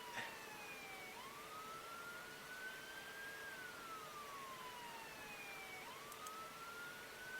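An emergency vehicle siren in the game Emergency 4 wails in long rising and falling sweeps, repeating twice at a quiet, steady level with no talk over it.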